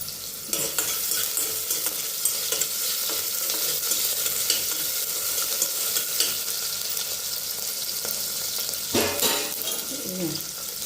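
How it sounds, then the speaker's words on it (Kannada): Washed vegetables fry in hot oil with sesame, chilli and salt for a vegetable pulao, making a loud, constant sizzle with busy stirring throughout. Toward the end comes a brief pouring or splashing burst. "ಚೆನ್ನಾಗಿ ಎಣ್ಣೆಲೆ ಚೆನ್ನಾಗಿ ಫ್ರೈ ಆಗಬೇಕು"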